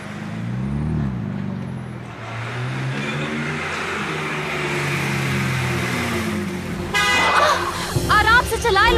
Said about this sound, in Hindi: हॉर्न दिया तो था, सुना क्यों नहीं तुमने?